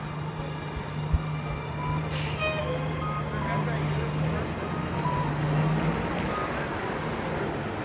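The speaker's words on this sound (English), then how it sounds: "Training bus." A training city bus rolls along Yonge Street in Toronto with a low engine drone and a brief hiss of air brakes, set in steady downtown traffic noise on a sunny afternoon.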